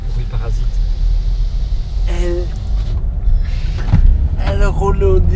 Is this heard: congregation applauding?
no